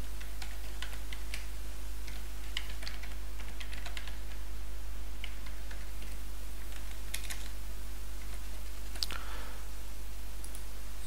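Keys tapped on a computer keyboard while a password is entered, with scattered light clicks in short bursts over a steady low hum.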